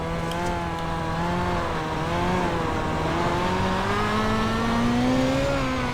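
Midget race car engine on the Chili Bowl dirt track in iRacing, droning steadily at light throttle with a wavering pitch that rises and falls gently throughout, loud and continuous with no talk.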